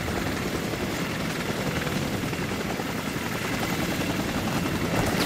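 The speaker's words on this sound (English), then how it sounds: "I'm gonna stay at the chopper." Helicopter in the EvO Survivors video game, a steady, loud rotor drone with broadband wash that holds evenly throughout, with no speech over it.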